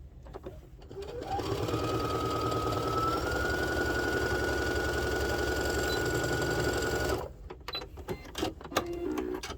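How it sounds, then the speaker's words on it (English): A sewing machine stitches a spa headband in one long steady run, a close continuous whirring drone with a fast rhythmic needle beat, starting and stopping with soft handling clicks. "we'll just sew up the rest of the way"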